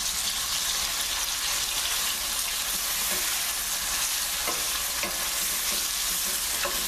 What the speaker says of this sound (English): you have to keep on mixing things when you're working like this